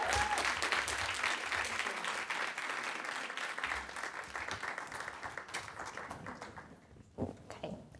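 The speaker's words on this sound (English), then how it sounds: "Please welcome to stage Lydia X.Z. Brown. Give a round of applause." Sustained audience applause at a lecture welcoming speaker Lydia X.Z. Brown, dense steady clapping from a full room that thins out toward the end with a few scattered claps.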